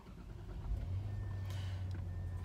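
A 2013 Bentley car engine idles with a steady low rumble that swells slightly partway through, close and moderately loud with no talking over it.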